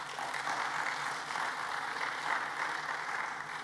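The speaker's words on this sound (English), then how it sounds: "Let's give them a round of applause" Audience applause at a Seventh-day Adventist secondary school graduation ceremony, a steady, moderately soft sheet of many hands clapping that holds evenly throughout without voices.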